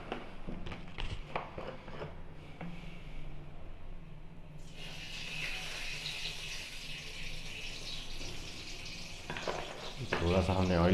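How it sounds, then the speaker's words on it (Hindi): Oil heating in a kadhai over a lit stove gives a steady low sizzle and hiss that brightens and grows fuller partway through, with light clinks of cookware near the end. "थोड़ा सा हमने ऑयल लिया, ऑयल को गर्म होने देंगे।"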